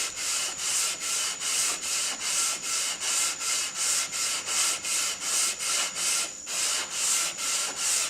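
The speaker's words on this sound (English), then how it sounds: "I just want to do a light sanding now." Steady back-and-forth light hand sanding on a redheart wood bandsaw box, a rhythmic rasping stroke repeating roughly twice per second, close and even, with no voices.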